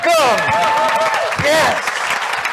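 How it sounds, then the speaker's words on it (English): Convention crowd clapping to welcome first-time attendees, a dense steady patter of applause with a voice talking loudly over it throughout. "Everyone with your hands down, clap for them."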